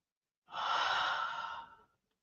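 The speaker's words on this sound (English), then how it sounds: "and breathe." A single long, soft exhalation during yoga practice, a breathy rush lasting over a second, close and alone in silence.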